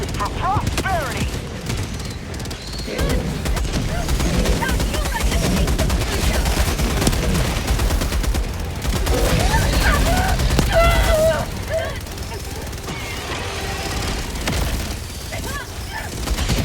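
Sustained gunfire in the Helldivers 2 video game, dense rapid bursts and booms with shouted callouts over a continuous battle din.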